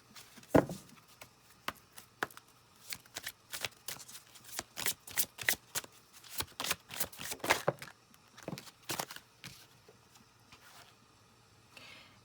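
A deck of tarot cards is shuffled by hand in a quiet room, giving a long series of crisp, irregular riffling snaps and flutters, close and clear with no talk.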